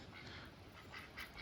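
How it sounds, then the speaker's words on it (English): Ducks quacking at a château pond, a few short calls near the end over a steady low background hum, fairly faint. "get away from the ducks that look like they're about to eat me"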